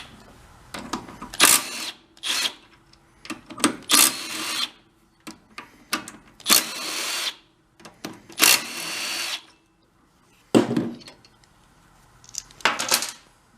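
A power tool works loose the bolts on a small engine's cylinder head in repeated loud, close bursts of whirring and rattling, separated by short pauses.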